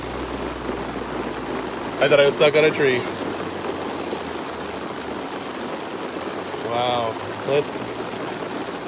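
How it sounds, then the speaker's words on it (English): Steady rain falls in a daylily garden in Pembroke, Georgia, a constant hiss of drops close by throughout, with people talking briefly over it. "And the rain is just coming down now."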